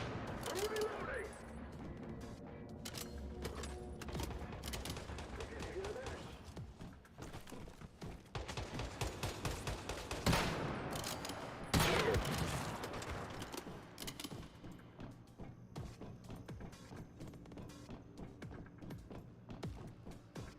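Gunfire in the Once Human video game, with dense bursts and scattered shots of varying loudness over a busy game soundscape, peaking in several louder volleys.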